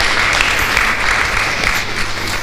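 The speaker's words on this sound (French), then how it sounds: "On peut l'encourager par nos applaudissements s'il vous plaît" Steady, dense applause from an audience fills the whole stretch at an even loudness, with no clear speech over it, during a youth forum anniversary event.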